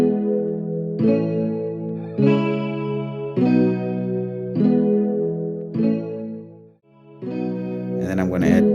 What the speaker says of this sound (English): I'm gonna add a magic switch, which is basically just a chorus plugin.